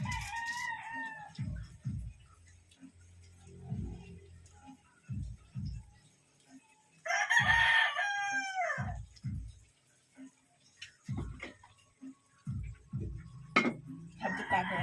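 Live chickens cluck and a rooster crows in a home kitchen while chicken afritada cooks, with a loud burst of crowing in the middle and repeated low thumps and clatter of pots throughout.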